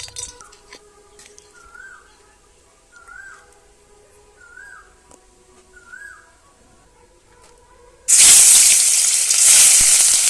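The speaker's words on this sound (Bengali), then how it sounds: "তেলটা গরম করে নিয়েছি দিয়ে দেবো মাছ" Pangas fish pieces drop into hot oil in a wok, setting off a sudden loud, steady sizzle after several quiet seconds of faint kitchen clinks and chirps.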